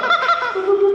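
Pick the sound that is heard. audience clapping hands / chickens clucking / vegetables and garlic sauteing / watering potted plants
chickens clucking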